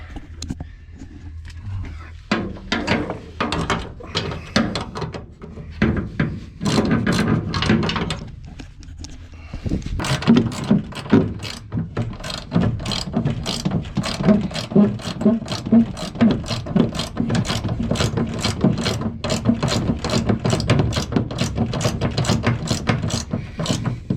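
A ratchet tightens the gas tank bolts on a 1979 Dodge D150 pickup, clicking in quick, steady bursts with short pauses between strokes, close and loud, with no talk over it.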